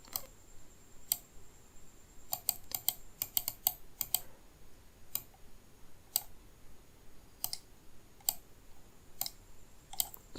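Sharp, dry clicks from a computer mouse or keyboard ring out close and clear, in scattered clusters and single taps spread over about ten seconds, with no speech.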